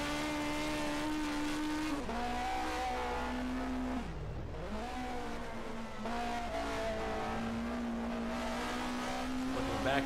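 Racing cars from the 1979 DRM Division 2 round at the Bergischer circuit roar continuously, engines rising and falling through gear changes as they brake into a chicane, loud and close over ten seconds, with commentary faintly under the noise.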